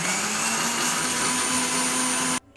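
An electric mixer grinder whirs steadily as it grinds bird's eye chili, garlic and salt into a paste, a loud, even motor whine that runs without a break for over two seconds, then cuts off abruptly.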